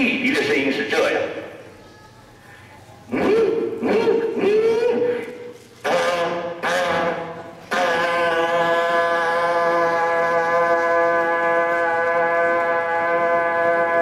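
At a Chinese New Year gala, someone speaks briefly, then imitates a steamship's whistle as it enters port with his voice, sounding a long, steady, foghorn-like tone loudly and close.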